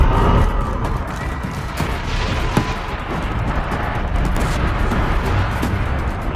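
Video game combat with bullets and missiles fired nonstop, a dense, loud, continuous roar of gunfire and blasts with scattered sharper impacts throughout.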